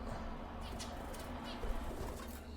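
Soft calls from pet Indian bulbul birds come through faintly over a low indoor hum, brief notes scattered across a quiet background.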